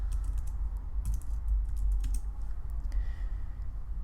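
Fingers type on a computer keyboard in quick, light clicks, with a short pause partway through, over a low background hum.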